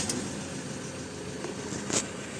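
A 2014 Ford Ranger that won't start gives a single faint starter click against a low steady hum, with no cranking or engine firing afterward.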